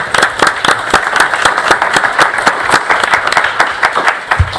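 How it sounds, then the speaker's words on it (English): An audience at a La Porte ISD board meeting breaks into sustained applause, a dense, even patter of many hands clapping close by that carries on for several seconds with no one speaking. "I think that deserves a round of applause."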